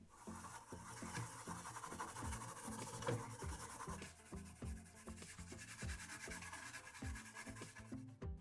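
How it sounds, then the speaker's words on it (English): Small brush scrubbing a dirty, corroded circuit board with isopropyl alcohol, soft rhythmic bristle rubbing and scraping strokes repeating steadily, close up but faint. "I'll finish it off using some isopropyl alcohol and a brush to try and remove the"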